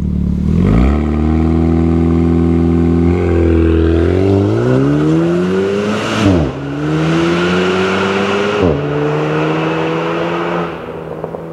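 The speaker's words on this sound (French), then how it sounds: "Un launch control, vu de l'extérieur, ça donne ça." A Renault Megane RS Trophy's loud engine revs hard and launches with launch control, heard from outside, climbing through several gear changes with brief dips between shifts, roaring steadily as the car pulls away.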